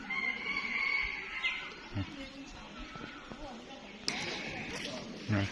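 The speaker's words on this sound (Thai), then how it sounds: "ก็มีแต่ไก่พี่น้อง" Free-roaming bantam chickens wander a temple ground, a rooster crowing at moderate distance amid background chatter and ambient noise, with a few soft thumps and clucks scattered through.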